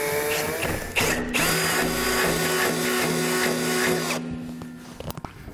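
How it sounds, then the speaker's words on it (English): A power drill whines steadily through steel for several seconds, its motor tone holding firm, then winds down with a few clicks and rattles at the end. "Generally that's the easiest way to drill through this steel"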